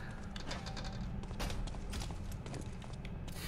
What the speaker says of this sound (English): maybe they're hearing the gunfire even though they're not supposed to